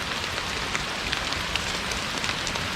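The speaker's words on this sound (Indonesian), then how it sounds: "Hujan." Steady rain falls on a mountain hiking trail, a dense continuous patter with scattered louder drops, fairly close and constant throughout.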